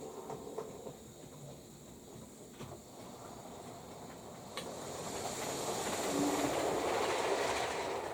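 A model train runs along its layout track and moves off to pick up a rake of Mark 3 coaches. A faint motor whir and soft track rattle build gradually, with a light hiss and no talking.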